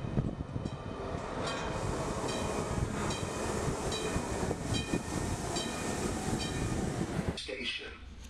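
A train rumbles through a station with a steady, loud mechanical roar and faint rhythmic rattling of wheels, then the noise drops sharply near the end as it passes.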